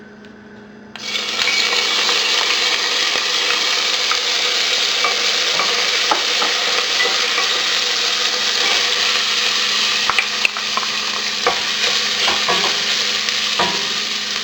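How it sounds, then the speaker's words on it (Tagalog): Garlic and onion sizzle loudly in hot cooking oil, a dense continuous frying hiss starting abruptly after a second and holding steady, with occasional stirring scrapes. "isosotay na natin dito yung garlic at onion once na mainit na yung cooking oil."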